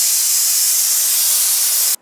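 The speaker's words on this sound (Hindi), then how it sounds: "जब इसमें 1 सीटी आ जाए तो इसका प्रेशर ख़त्म होने तक हमें वेट करना है।" A pressure cooker cooking chicken biryani vents steam through its whistle in a loud, continuous hiss that holds steady and then cuts off abruptly near the end.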